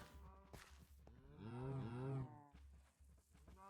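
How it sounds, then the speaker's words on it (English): Cows in a farm video game give a drawn-out, close moo, framed by soft thudding sounds before and after, with no voices. "I think we can let the cows into their new house"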